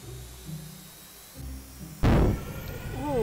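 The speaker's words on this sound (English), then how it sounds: "I think the engines are starting." MiG-21 jet engines spool up in the Stormworks building game, a sudden loud surge at the two-second mark after quiet cockpit hum, settling into a steady rising roar.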